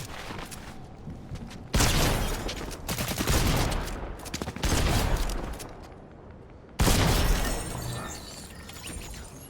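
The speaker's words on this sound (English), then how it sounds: "Great shotgun on somebody." Loud shotgun blasts in Fortnite, several sharp heavy bursts with shattering crashes spaced a couple of seconds apart over a steady background of game noise.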